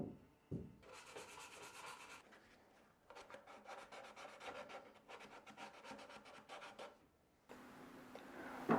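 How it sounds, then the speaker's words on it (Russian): Sandpaper rubs by hand over the corners and edges of a small wooden tea box in a quiet close-up, with bursts of quick rasping strokes separated by pauses. "Углы и торцы домика я шлифую вручную."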